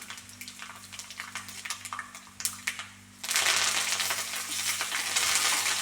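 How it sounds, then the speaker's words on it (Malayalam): Dried red chillies crackle softly in oil with scattered pops, then curry leaves drop in and a sudden loud, dense sizzle bursts up and holds steady for a Kerala mango pulissery tempering. "വറ്റൽമുളക് മൂത്ത് വരുമ്പോൾ നമുക്ക് കറിവേപ്പില ഇട്ട് കൊടുക്കാം"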